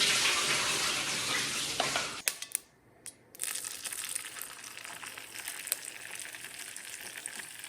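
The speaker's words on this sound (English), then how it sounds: "I'm going to strain out the water out of my potatoes" Boiled potatoes have their water poured off through a strainer, a close rushing splash that runs for a couple of seconds, cuts out briefly, then gives way to softer dripping and trickling.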